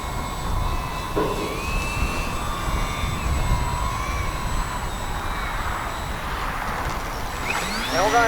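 A small electric ParkZone Sport Cub S2 RC airplane flies outdoors, its motor buzzing steadily with pitch shifts as it passes through a knife-edge maneuver, with wind noise throughout.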